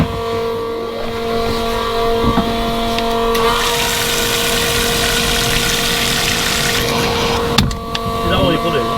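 A pump runs with a steady, loud mechanical hum and whine, holding constant for several seconds near the microphone while people talk over it.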